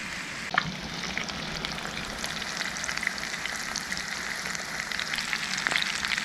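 A batch of smallmouth bass frying in hot oil gives a steady, close sizzle with a few brighter pops and crackles, continuous and alone with no talk.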